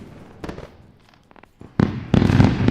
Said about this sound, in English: Boom. Big fireworks.